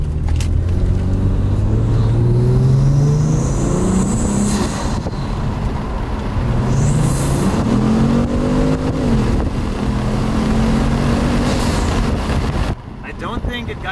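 A Kia Stinger with an HPS cold air intake accelerates hard with the windows open, its engine note rising through several gear pulls over steady loud wind rush, with a voice speaking over it.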